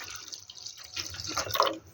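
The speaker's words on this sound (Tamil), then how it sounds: "கொஞ்சம் தண்ணி ஊற்றிக்கலாம்" Water splashes and trickles into a cooking pot of drumstick-leaf sambar for a couple of seconds, swelling to a louder gush near the end, close by.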